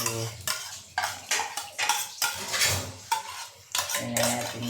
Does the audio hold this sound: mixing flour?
yes